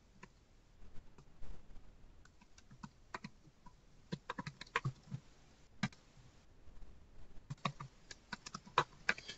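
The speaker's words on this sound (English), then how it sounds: "I'm just typing in his account password here and signing in like normal" A password typed on a computer keyboard during an Office 365 sign-in, irregular bursts of crisp key clicks, sparse at first and then faster and denser, close and alone.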